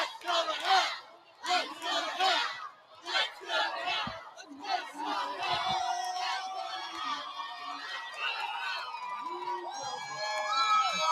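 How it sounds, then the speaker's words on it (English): Large crowd lining the Salt Lake City Utah Pride Parade, loud cheering and shouting in bursts that settle into a sustained roar of voices. "There's the crowd. Big crowd here today."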